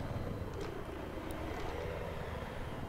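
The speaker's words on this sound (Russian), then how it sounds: "На нас самолет." Aircraft engine roaring steadily in the video game Battlefield 3 on the Nebandan Flats map, a loud continuous drone with faint pops of distant gunfire layered over it, no talking.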